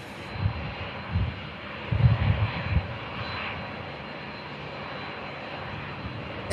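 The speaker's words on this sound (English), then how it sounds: "And here is that beautiful aircraft about to taxi past." A Boeing Dreamliner jet taxiing at Manchester Airport gives a steady broad engine roar at moderate distance, with a soft low rumble swelling and fading underneath.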